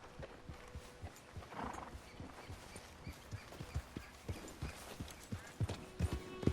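A horse gallops in the open world of the video game Red Dead Redemption 2, its hoofbeats a quick, rhythmic clip-clop that grows slightly louder, with a faint whinny in the background.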